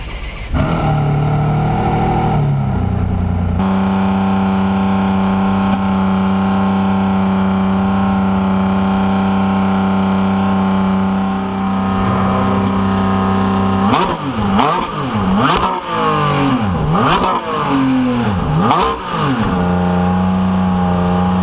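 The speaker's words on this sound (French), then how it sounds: "Il est bloqué à 3000 tours minute et là il fait des revs." A Ferrari engine in Monaco holds a steady high drone at 3000 rpm for a long stretch, then revs up and down in several sharp bursts, loud and close.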